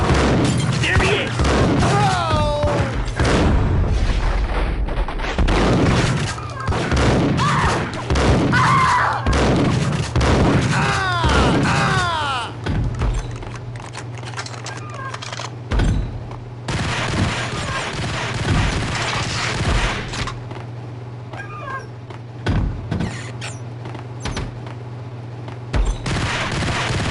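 Rapid bursts of gunfire in the video game Max Payne, sharp shots fired close together and landing over game dialogue early on, then sparser, heavier shots and thuds as the exchange goes on.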